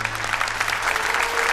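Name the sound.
applause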